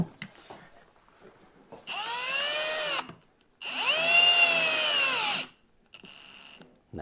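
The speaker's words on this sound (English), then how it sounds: "right now I'm just going to be driving one of these screws into the little hole" A power drill drives a screw into a pocket hole in wood with two close, loud whining bursts, each about one to two seconds long, the motor pitch rising and then falling, with short quiet gaps between them.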